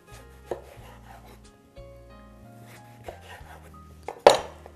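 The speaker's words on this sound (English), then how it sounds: "I will slice them into about 1/2 inch slices" A kitchen knife slices vegetables into half-inch rounds on a cutting board, giving several separate knocks at an unhurried pace, close and fairly quiet, with a low steady hum beneath and one louder clatter near the end.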